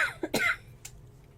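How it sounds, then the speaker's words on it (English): A single sharp cough near the start, close by, preceded by a short throaty sound and followed by a faint breathy huff. "Sorry about the cough."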